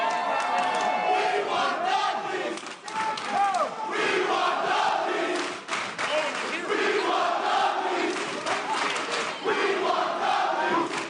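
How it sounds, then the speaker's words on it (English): A wrestling crowd at a live House of Glory show roars and cheers loudly and continuously, with swelling shouts and a commentator faintly underneath. "Listen to this crowd."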